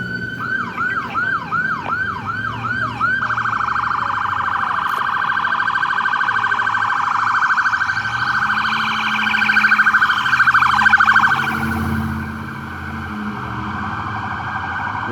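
Ambulance siren wailing loudly nearby in Fenway city traffic, a fast yelp pattern shifting into a steady wail, with road rumble and traffic noise underneath as it passes.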